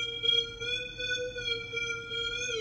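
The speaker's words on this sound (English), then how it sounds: "So I made this sound in Serum, and then I made this melody that sounds like this." A synth melody made in Serum holds one steady, bright tone with rich harmonics at moderate volume, sliding slightly near the end over a low background hum.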